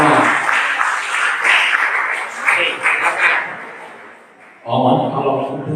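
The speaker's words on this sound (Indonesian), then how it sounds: "tepuk tangan." An audience applauds at a motivational talk, a dense crowd clatter of claps that thins and fades before a fresh burst swells up near the end.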